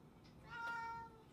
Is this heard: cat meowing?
yes